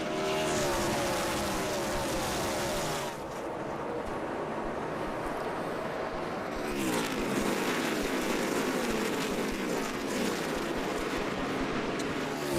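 NASCAR Busch Series race cars restart on the green flag at the 2007 Pepsi 300 with a loud, dense engine roar that swells as the pack accelerates past, continuous and near throughout.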